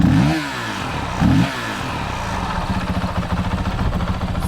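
A Honda CRF 450 RL dirt bike running a GET ECU with its stock exhaust blips its engine twice in sharp revs, then settles into a loud, close, chugging idle with rhythmic pulses.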